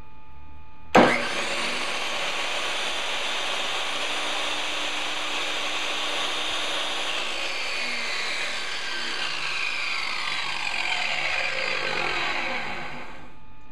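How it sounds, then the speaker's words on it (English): A Harbor Freight 10-inch 2.5 HP tile and brick saw starts with a sharp jolt and runs dry with no pump, a loud, steady, high motor whine close by that holds for several seconds, then winds down with a falling pitch. "Sounds just like a direct drive chop saw to me."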